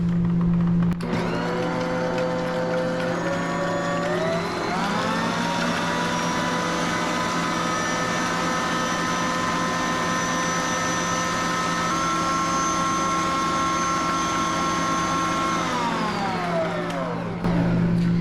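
An electric mixer on high whips egg whites for a chocolate pie meringue, with a steady, loud motor whine that rises as it speeds up and drops away as it shuts off at the end.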